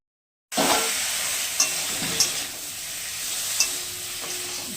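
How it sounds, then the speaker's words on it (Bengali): Sizzling frying as fish curry masala with ginger-green chilli paste, salt and turmeric is sautéed for a rohu and ridge gourd curry, a steady close hiss with a few sharp stirring scrapes and no talking. "লবণ দিলাম, হলুদ দিলাম, লবণ দিলাম। এবার ভালো করে কষিয়ে নেব।"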